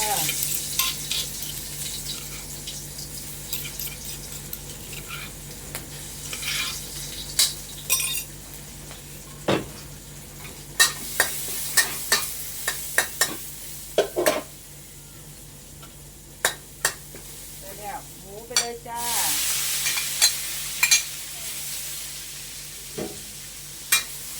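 Chilies stir-frying in a hot pan for a Thai basil stir-fry, a steady sizzle broken by scattered sharp clinks and scrapes of a spatula against the pan, close and fairly loud with no talking.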